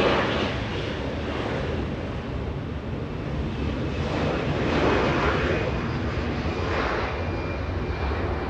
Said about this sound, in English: Air Force One touchdown